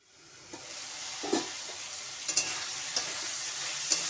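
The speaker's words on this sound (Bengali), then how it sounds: "হলুদ লবণ দিয়ে পটলও ভেজে নেব।" Pointed gourd (potol) frying with turmeric and salt in a pan gives a steady close sizzle, broken by a few soft clinks of stirring.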